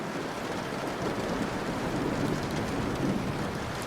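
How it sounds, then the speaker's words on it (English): Steady rain falling, a dense continuous hiss with a low rumble underneath, close and even throughout. "I love rain sounds"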